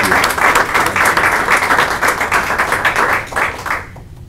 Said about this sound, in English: we'd just like to give you a round of applause